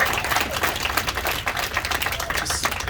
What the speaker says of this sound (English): If we're gonna clap every time, we may not get to all the questions